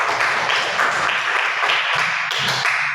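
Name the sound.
applause and clapping in a classroom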